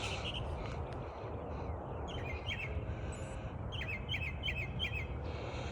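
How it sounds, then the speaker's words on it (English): A mockingbird perched at the top of a tree sings a series of short, repeated chirping phrases, faint and distant over a steady outdoor rumble. "That's a mockingbird."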